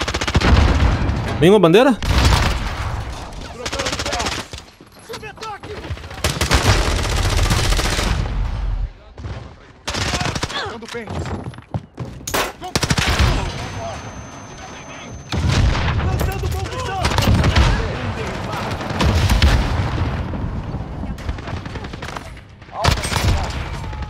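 Submachine gun fire in the Warzone video game, heard as repeated loud bursts and rattling volleys with sharp booms between them, spread through the whole stretch and mixed with a player talking.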